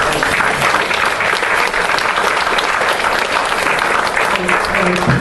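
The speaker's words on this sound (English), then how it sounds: "A round of applause for our candidates for being here" An audience at a League of Women Voters candidates' forum gives steady, dense applause, loud and continuous throughout, with a voice faintly audible beneath the clapping.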